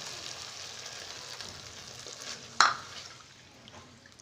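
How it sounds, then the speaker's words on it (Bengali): Water poured into a spice paste frying in oil for singi fish curry gives a sudden sharp hiss partway through, over a quieter, steady background sizzle that fades afterward. "আমি দিয়ে দিচ্ছি জল।"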